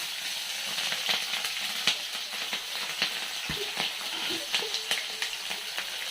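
Cooking oil sizzling in a frying pan while a dish of fried egg, onion and chilli is prepared, a steady soft hiss with small crackling pops scattered throughout, close and fairly quiet.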